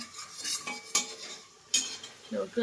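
A metal spoon stirs a tempering of cumin, mustard seeds, asafoetida and curry leaves in a pot for mixed dal khichdi, giving a few sharp clinks and scrapes over a faint sizzle, close and fairly quiet.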